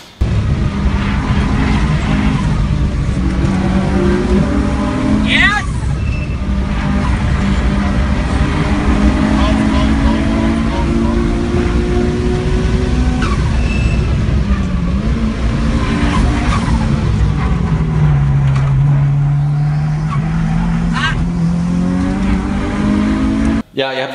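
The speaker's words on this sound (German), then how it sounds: "Aber der Tobi gibt auch Hartgas, oder?" A sports car accelerates hard on the Nürburgring Nordschleife, its loud engine climbing and falling through the gears with rising whines, close and continuous, while voices talk over it.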